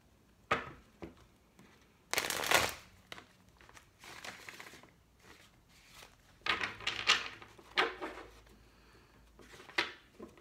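Several bursts of tarot card shuffling, crisp riffles and papery rustles close by, with short pauses between them and no talking.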